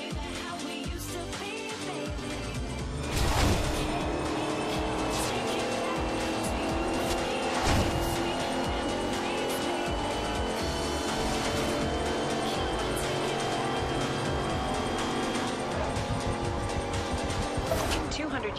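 Racing car in Forza Horizon 2 speeding through speed traps, a loud sustained engine roar with rising and falling revs, tire noise and passing whooshes, with talk over it throughout.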